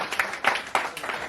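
Audience clapping at a large Hindi poetry gathering, a dense steady patter of many hands with no break, fairly close, over about a second.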